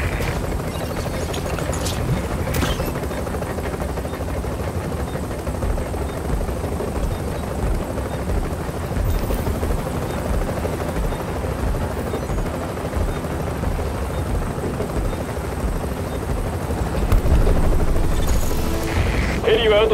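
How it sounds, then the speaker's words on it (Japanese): Helicopter waiting to take off in The Division video game, a loud continuous rotor thrum with distant gunfire and booms, swelling louder near the end as it readies to lift. "ヘリは30秒後に離陸する。"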